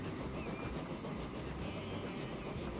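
Game train from Transport Fever rolling slowly along the line, a steady low rumble with faint rail clatter throughout, moderately quiet and continuous with no talk.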